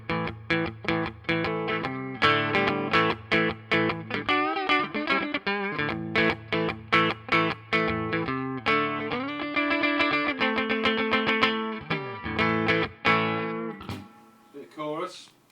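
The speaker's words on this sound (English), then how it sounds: "We'll put on the reverb now, which is quite a nice reverb." Distorted electric guitar through a Fender Deluxe VM combo amp's reverb plays a run of chords and picked notes, each ringing out with a spacious reverb tail that lingers between strums.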